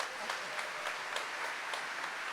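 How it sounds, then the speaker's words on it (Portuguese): An audience at a church family sermon claps together, a steady wash of applause at moderate distance with no voices standing out. "Pode aplaudir isso em nome de Jesus"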